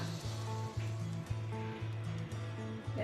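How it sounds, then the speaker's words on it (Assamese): Turmeric, salt and red chilli powder sizzle steadily in hot oil for an egg curry, a soft continuous hiss running beneath louder rhythmic background music. "এতিয়া তেল গৰম হৈছে, মই হালধি, নিমখ আৰু লাল মিৰ্চ দি দিম অকণমান।"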